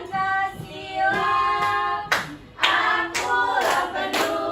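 Children in a Grade 4 classroom beat rhythmically on their desks in time with a group song, steady repeated tapping strikes layered over sung melody, fairly close and continuous.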